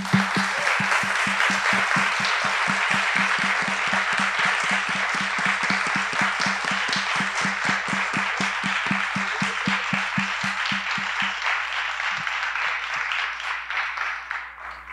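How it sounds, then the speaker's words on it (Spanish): Audience applause at a meeting introducing a gathering on representation and identity, a dense steady wash of clapping with a rhythmic pulsing beat running through most of it, fading slightly near the end. "pido un fuerte aplauso para ellas"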